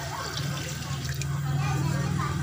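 About one and a half glasses of water poured into a cooking pot, a loud, continuous gush that lasts throughout, with a low hum beneath it.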